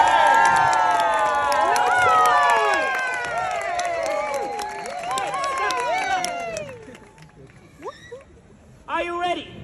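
A circus audience in Edinburgh cheers and shrieks loudly, a dense mix of many high voices with children among them, swelling for several seconds before fading, then breaking out into shorter bursts of shouting.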